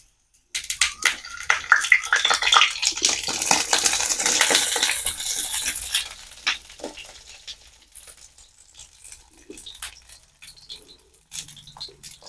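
Water hitting a hot pan while banana pitha cooks, a loud burst of spattering and sizzling that fades after a few seconds into scattered pops and crackles.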